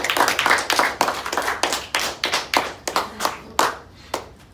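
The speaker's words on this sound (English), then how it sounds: "Let's give Pat a big round of applause." An audience at a public speaking school claps for a speaker, a burst of fairly sparse, distinct handclaps that thins out and fades over a few seconds, close and without speech.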